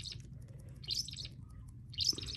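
A baby parakeet calls in the Feather Family video game: two short, high chirps about a second apart, clear over a low steady game background hum.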